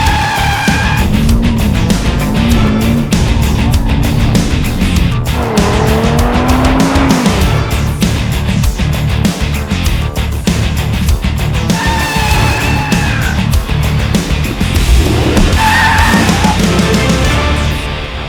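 An Audi RS3 with about 400 horsepower drifts hard, its engine roaring loud and close without a break while the tires squeal in repeated rising and falling screeches. No voices are heard.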